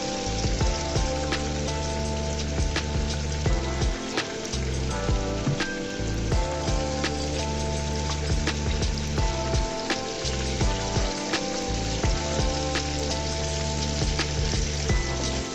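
An egg sizzles in hot oil with fried onions in a pan, a steady crackling fry with sharp pops and spatters throughout, close and fairly loud with no talking.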